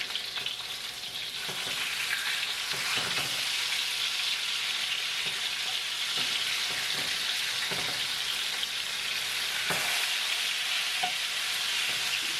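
A salmon fillet fries to a crisp in a pan, giving a loud, continuous crackling sizzle with occasional scraping and stirring sounds.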